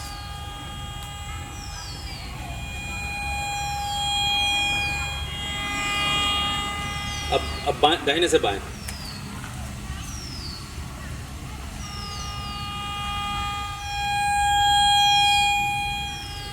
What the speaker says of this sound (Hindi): जहाँ पर मैक्सिमम एलईडी और साउंड आ रहा है उस जगह पर उस मेटलिक कंटेंट का सेंटर होना तय है